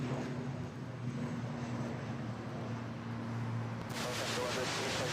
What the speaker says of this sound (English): So we have this ATR 72 takeoff.